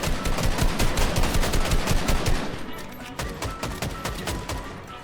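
Rapid automatic gunfire in Fortnite, a dense stream of loud, close shots firing steadily for several seconds before easing into sparser bursts.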